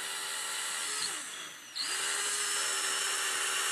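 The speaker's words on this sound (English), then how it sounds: "Start to drill the helmet." A power drill bores through a helmet in a sustained high whine that dips briefly as the bit slows and then spins back up to full speed, close and loud.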